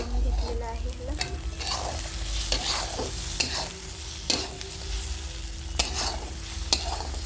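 Egg stirred and frying in a pan over a gas flame, a continuous sizzle punctuated by repeated sharp scrapes and taps of the spatula against the pan.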